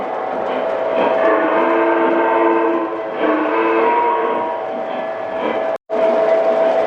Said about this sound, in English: So now we have 3 out of the 4 trains running